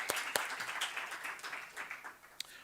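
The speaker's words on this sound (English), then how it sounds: "Let's give you a round of applause," Audience applause at a talk, a fairly faint, scattered clapping from a small group with a few sharper individual claps standing out, tapering off quickly over a few seconds.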